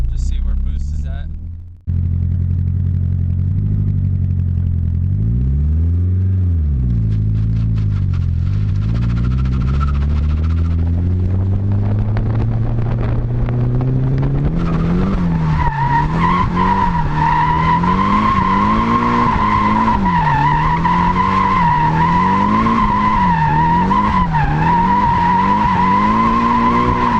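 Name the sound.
Nissan S13 SR20DET drift car with turbo, engine and tires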